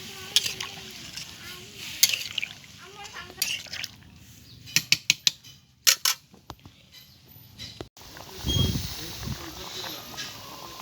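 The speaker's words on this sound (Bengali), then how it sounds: "এবারে আমি পানি দিয়ে দেবো" Water poured into a pot of spiced beef braising on a clay stove, with sharp clatters and a splashing, sizzling burst near the end over steady background noise.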